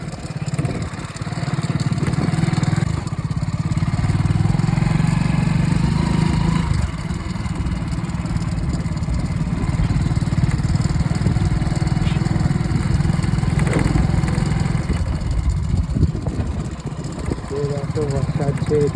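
Motorbike engine running steadily while being ridden up onto a raised embankment beside flooded ground, a loud, continuous rumbling drone throughout, with voices talking over it.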